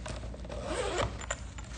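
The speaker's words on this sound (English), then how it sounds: "Then we have this compartment here that's covered with the mesh zipper." A mesh zipper on a luggage compartment pulled open in one continuous, close, rasping run, with a brief louder snag partway through.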